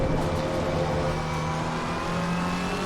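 A McLaren 720S GT3 race car engine in the racing game Assetto Corsa Competizione: a loud, steady, droning engine note held continuously, with no talking.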